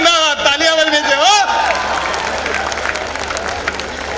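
An audience at a Hindi comedy poetry gathering breaks into steady applause that fills the room, following a performer's raised voice.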